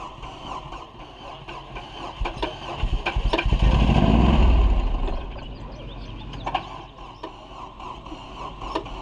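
An engine with a thrown connecting rod and a piece of its block broken out runs with a rough, knocking clatter, swelling louder as it revs near the middle before settling back down.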